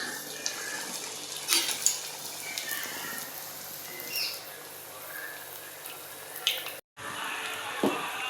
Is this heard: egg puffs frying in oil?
yes